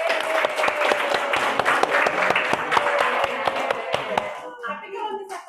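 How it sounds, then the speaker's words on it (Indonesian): An audience applauds at a GIS training session on map layout in Tangerang Selatan, steady dense clapping for several seconds that thins out toward the end. "tepuk tangan untuk kita semua"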